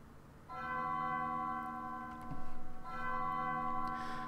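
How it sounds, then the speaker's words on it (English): Ominous bells ring out in the Undertale video game, a sustained tolling chord that swells in, dips briefly, then strikes again and holds steady to the end. "I don't like the sound of those bells. That sounds ominous."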